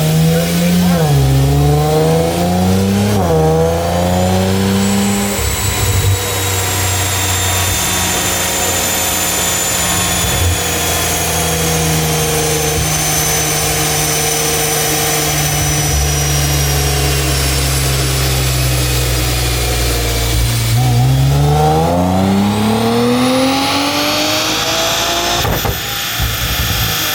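Infiniti Q50 Red Sport engine revving loudly on a dyno during a tune, with rising and falling pulls at the start and again near the end and a steady high drone between, no talk.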